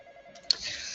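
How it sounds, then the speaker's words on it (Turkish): A phone rings in a Roblox game: after a brief soft tone, a sharp electronic ring begins about halfway through and continues as a bright, steady buzz to the end. "Telefon çalıyor."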